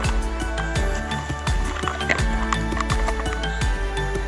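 Bush hog mower working a field with old baling twine tangled in it, giving a loud, close mechanical drone with rhythmic knocking and clattering thumps that repeat every half second or so.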